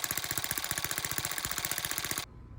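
A small Webster model engine runs with a rapid, even, loud chuffing knock, then cuts off abruptly, leaving quiet.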